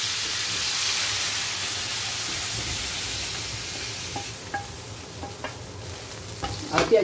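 Half a kilogram of meat frying in a failing pan with a steady sizzling hiss, joined later by a few scattered clicks and scrapes of utensils against the pan.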